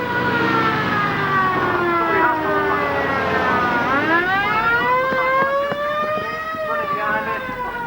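A wailing fire engine siren sweeps up and down in pitch, loud and continuous over a droning engine, as the vehicle passes nearby at a fire engine rally.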